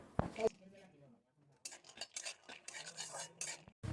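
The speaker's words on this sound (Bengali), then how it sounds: "কড়াইতে একটু ঘি দিয়ে বাদামগুলো ভালো করে ভেজে নিতে হবে" A utensil stirs and scrapes peanuts frying in ghee in a wok over low heat, giving close, quiet clinks and scraping bursts with short pauses between them.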